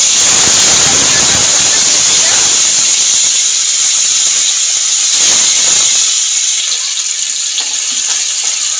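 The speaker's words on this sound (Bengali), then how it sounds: "আর কাঁচা লঙ্কা পেস্টটা ভাজতে ভাজতে" Tomato and green chili paste frying in a pan for a papaya ghonto, a loud steady sizzling hiss with steamy spray texture that continues throughout and eases slightly toward the end.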